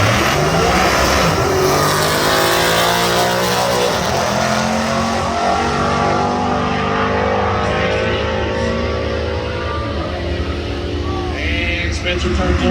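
A 2016 Mustang drag racing at US131 Motorsports Park roars at full throttle, a loud engine with rising and shifting pitch sweeps, and an announcer talks over it throughout.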